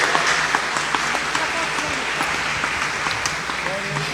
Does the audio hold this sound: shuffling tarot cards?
no